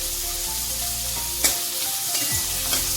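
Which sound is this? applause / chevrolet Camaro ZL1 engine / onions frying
onions frying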